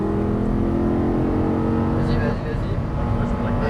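Audi R8 V10 pulling hard down a racetrack straight, its engine note droning loud and steady with rising harmonics, heard from inside the cabin while an instructor talks over it.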